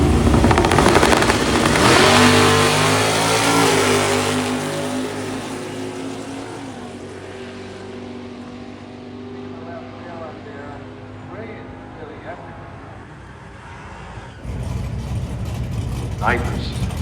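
Drag race car on nitrous at Hot Rod Drag Week, its engine roaring loud and near as it accelerates, the harmonic pitch climbing then fading into the distance while commentators talk over it.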